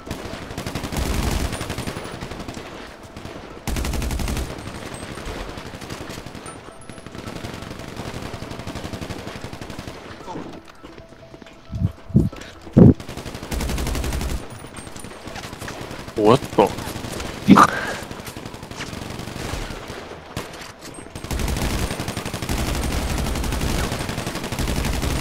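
Rapid gunfire bursts from the video game GTA Online on PC, loud and dense, with repeated volleys and brief pauses while players talk excitedly over the shooting.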